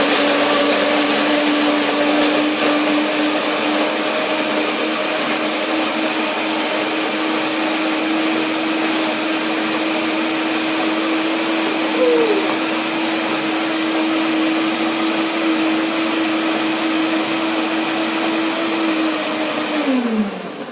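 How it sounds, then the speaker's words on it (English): A blender runs steadily for about twenty seconds, whirring cashews, dates and pine nuts with water into a smooth cream, loud and close, then winds down abruptly at the end. "Now put some water again, and I will blend it to make it creamy"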